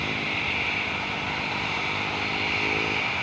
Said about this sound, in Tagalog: Malaking eroplano.